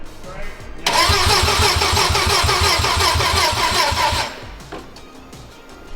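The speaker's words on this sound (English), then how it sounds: "We were trying to start it." A Mazda 13B rotary engine swapped into a Subaru FRS cranks with a loud, rhythmic, pulsing starter churn for about three and a half seconds without catching, then fades to quieter background noise.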